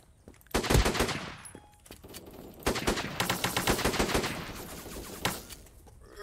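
Semi-automatic weapons fire in the browser shooter Krunker.io, with bursts of quick, sharp shots in rapid rhythmic volleys, one around the first second and a longer run in the middle, loud and close.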